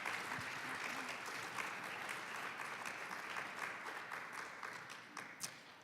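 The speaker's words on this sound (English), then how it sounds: "if we can have a big round of applause for all of our panelists" Distant audience applause, a steady patter of many hands that thins out toward the end with a few last claps.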